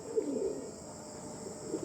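Fancy domestic pigeons give a faint, brief low coo near the start, then only soft murmuring in a quiet space, with no voices.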